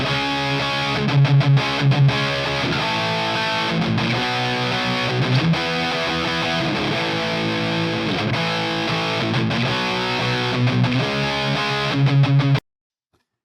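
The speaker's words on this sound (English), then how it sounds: "I've reamped a riff through all 7 power tube pairs using channel 2B of the Hughes and Kettner Triamp Mark III" Distorted electric guitar riff reamped through channel 2B of a Hughes and Kettner Triamp Mark III tube amplifier, a loud, continuous chugging pattern with rhythmic stops that plays alone for about twelve seconds, then cuts to silence.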